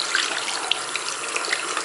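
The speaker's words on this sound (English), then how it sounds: "you're just gonna rinse all the material out" Makeup brushes being rinsed under a running tap, with a steady hiss of water into a sink and a few brief splashy spikes as the bristles pass through the stream, close and moderately loud.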